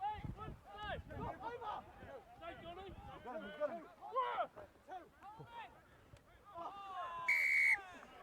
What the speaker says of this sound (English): So the referee blows the whistle.